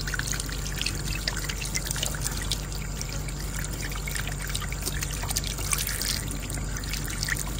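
Water pours and trickles steadily as mackerel is rinsed clean in a home kitchen, a close, constant splashing stream with no voices.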